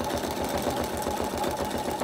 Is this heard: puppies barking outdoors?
no